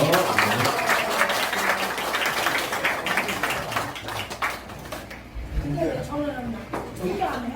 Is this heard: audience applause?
yes